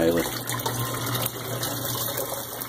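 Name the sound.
rinsing pine needles under running water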